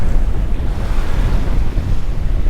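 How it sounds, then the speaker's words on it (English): Strong wind roars and buffets steadily against the microphone, a continuous loud rushing with no pauses. "I did not think it was going to be this windy."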